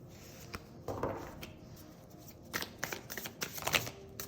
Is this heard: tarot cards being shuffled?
yes